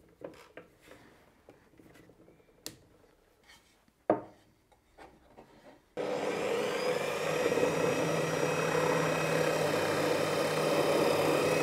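A 7 mm bit is driven into scrap wood, preceded by scattered handling knocks and taps, then a loud, continuous whirring drill grind that runs steadily to the end.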